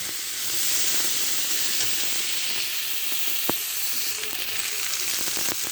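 Food frying in a pan for a light Bengali shukto with plantain, a dense, even hiss of sizzling oil heard close and steady throughout, with one sharp tap midway.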